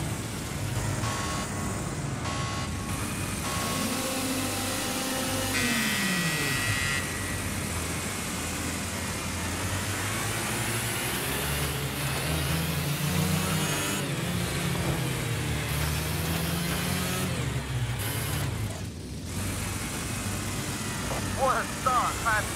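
Race cars in the RaceWorld video game roar off the start line together, with sustained loud engine drone and rising revs that shift in pitch. An announcer's voice comes in over the engines.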